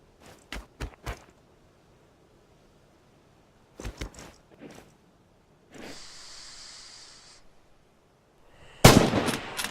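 Rifle fire at targets in Red Orchestra 2: scattered sharp cracks in small groups, a hissing stretch in the middle, then a louder burst at the end, with quiet gaps between.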